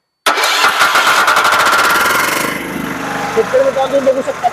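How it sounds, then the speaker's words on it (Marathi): A self-start diesel power weeder engine cranks and catches abruptly, settling into a loud close rattling chug that eases slightly toward an uneven idle, with a voice briefly audible near the end. "तुम्हाला मी आता मशीन स्टार्ट करून दाखवतो"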